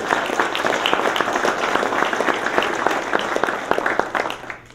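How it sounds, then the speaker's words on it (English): At the SCPGA President's Dinner, a banquet crowd gives a round of applause that stays full and continuous, with many hands clapping at once throughout. "give yourself a round of applause for the contributions you've made"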